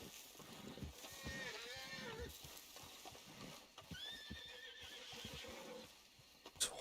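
Several horses whinny and neigh in the video game Red Dead, with long wavering calls rising over a background of hooves and farm-animal noise, a person talking faintly beneath.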